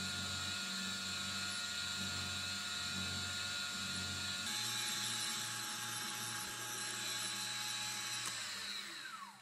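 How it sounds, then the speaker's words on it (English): A milling machine cuts brass with an end mill at the edge of its rigidity, a steady loud mechanical whine with bright ringing tones and a faint rising squeal near the end, no voices. "I'm pretty much at the limit of rigidity on this milling machine"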